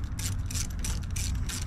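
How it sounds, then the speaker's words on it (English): A 1/4 inch ratchet loosens the valve cover bolts on a Briggs & Stratton Intek 20hp V-twin in a John Deere L120 mower, a rapid close clicking of the pawl repeating in quick bursts with no talk. "You see, I only have a 1/4 inch ratchet here."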